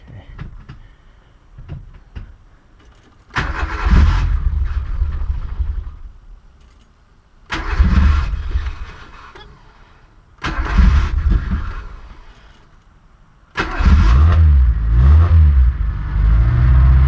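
A car engine being started, with several cranking attempts: short bursts of cranking and sputtering, separated by pauses, before it finally catches and runs steadily, loud and close.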